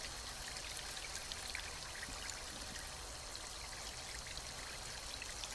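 Water being collected in the video game Northern Lights, a steady trickling, pouring rush like running water or rain, continuous and even throughout with no talking.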